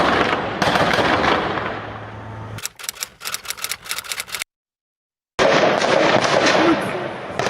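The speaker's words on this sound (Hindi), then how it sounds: "हमास के लड़ाके इजरायली सैनिकों पर ताबड़तोड़ फायरिंग करते दिखे" Hamas fighters fire at Israeli soldiers in West Bank streets: quick, sharp bursts of rapid automatic gunfire crackle for a couple of seconds between stretches of loud, dense noise, then cut to silence.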